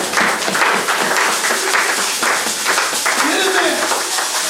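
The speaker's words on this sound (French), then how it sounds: "Acclamons encore le Seigneur" Church congregation clapping in praise, rhythmic group handclaps mixed with loud voices and cheering, fairly close and energetic throughout.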